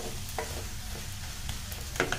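Grated carrot roasts in a pan for semolina carrot burfi with a soft, continuous sizzle and scattered stirring scrapes, close but quiet, with no one talking.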